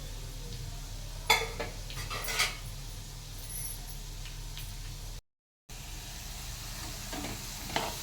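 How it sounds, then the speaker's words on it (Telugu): Potato pieces frying in hot oil in a home kitchen pan, a steady moderate sizzle with a few sharp clinks of a utensil stirring near the start, continuing evenly with a brief dropout midway. "ఇదిగోండి బంగాళదుంపలు వేస్తున్నాను కొద్దిగా కుక్ అయిపోవాలి ఆయిల్లో కుక్ అయ్యి"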